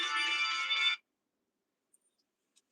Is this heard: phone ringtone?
yes